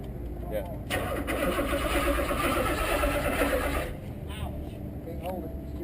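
A 1985 Porsche 928S barn-find engine cranking over without firing, a loud steady starter whir lasting about three seconds, then stopping, with a voice talking nearby.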